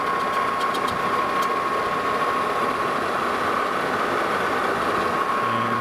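Lathe machining a steam pipe ring for a steam locomotive repair, a steady loud mechanical hum with a sustained cutting whine and a few ticking clicks early on.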